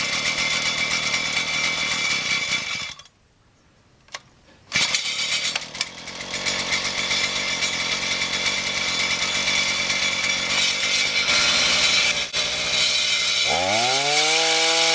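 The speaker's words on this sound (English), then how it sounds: "Set the choke, brace the cultivator, and pull the starter." A TAZZ 33cc two-stroke cultivator engine runs with a loud, buzzing chainsaw-like drone, cuts out briefly, then restarts and holds steady, with a rising rev near the end.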